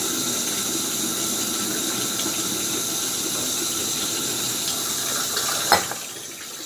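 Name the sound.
water being poured from tap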